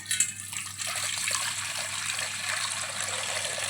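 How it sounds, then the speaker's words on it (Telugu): Water is poured in a steady stream into a bowl of fritter batter for chili, betel leaf and coriander bajjis, making a close, continuous trickling splash with no talking. "వాటర్ పోసాను"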